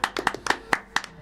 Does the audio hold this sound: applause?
yes